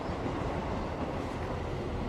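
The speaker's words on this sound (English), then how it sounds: "Nearly got hit by a train." A train rushes past in a Cthulhu-themed video game, a dense, steady rumbling roar filling the moment without any talk over it.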